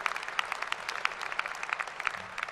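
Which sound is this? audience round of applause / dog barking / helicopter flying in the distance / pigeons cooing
audience round of applause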